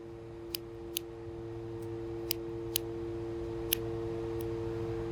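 Small scissors snip through yarn wound around a book while making an 1830s-style yarn doll: a handful of quiet, separate clicks spaced irregularly over a steady low hum.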